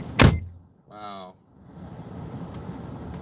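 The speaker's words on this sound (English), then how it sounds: "Denise literally opened the door while we were rolling." A car door opening on a rolling car: a sharp thump, then a short buzzing mechanical whir, followed by steady road and engine rumble as the vehicle keeps moving.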